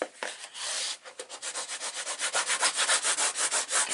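A vintage baby album is rubbed down by hand in quick, even back-and-forth strokes, a close, dry scratchy rhythm that speeds up and grows louder.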